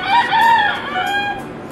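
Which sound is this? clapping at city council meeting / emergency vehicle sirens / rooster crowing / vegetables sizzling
rooster crowing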